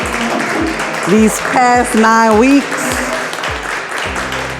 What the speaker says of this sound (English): If you all can just stand up and give yourselves a round of applause for completing